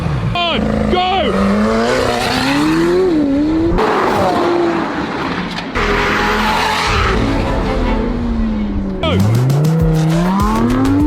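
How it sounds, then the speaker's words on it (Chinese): A McLaren 720S and a Lamborghini Huracán race hard on a track, engines rising and falling through gear changes as tires squeal repeatedly in long, loud bursts, with a voice talking over part of it. "接下来让我们尽情欣赏2台世界级跑车在这条恐龙赛道之上上演的巅峰对决"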